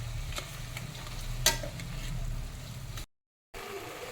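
Onion, tomato, salt and a dry chilli sautéing in a pan, a low steady sizzle with light spoon stirs and one sharper scrape, cut by a brief gap of silence.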